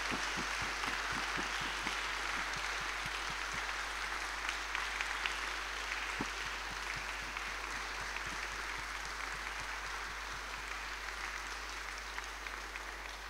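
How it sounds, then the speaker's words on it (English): A concert audience at a classical and choral evening claps for the volunteers, a long sustained wash of many hands with individual claps standing out, holding steady and easing off slightly toward the end. "Let us give them a big round of applause to show them our appreciation."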